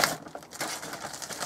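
A plastic MRE ration pouch (Beef Brisket menu) is torn open close by, giving a crinkling, crushing plastic rustle with a few sharper rips across a second and a half.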